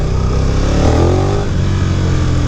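A 2018 KTM 1290 Super Duke GT motorcycle accelerates hard, its loud, close engine roar climbing in pitch mid-clip before holding steady, with no talking.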